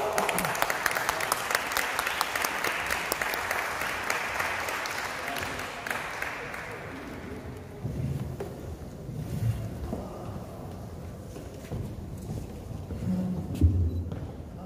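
Audience applause at a live poetry event in Tooting, London, a broad wash of clapping that starts strong and fades into a quieter, noisier room with some low rumble.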